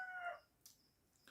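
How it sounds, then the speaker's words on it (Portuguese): Roosters crow in the distance, one drawn-out call followed by fainter short calls, heard alone without speech. "os galos estão cantando"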